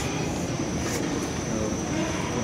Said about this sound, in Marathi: आपण बघूया मेट्रो